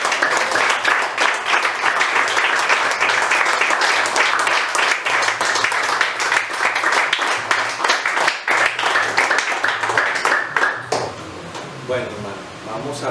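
A church congregation breaks into sustained, dense applause with loud clapping throughout, some voices and shouts mixed in, tapering slightly near the end.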